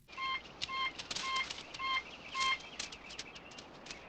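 A phone rings in the film Grizzly, a run of short, evenly spaced electronic beeps, moderately loud, with a busy chirpy background underneath.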